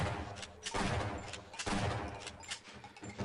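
Shotgun firing in Half-Life, several faint, spaced blasts with short tails of rumble, heard at low level.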